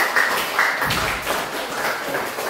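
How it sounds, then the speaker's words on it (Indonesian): An audience applauds together at the close of a classroom discussion, a steady wash of many hands clapping at moderate loudness that holds for a few seconds without letting up. "Sekali lagi saya minta tepuk tangan untuk kita semua."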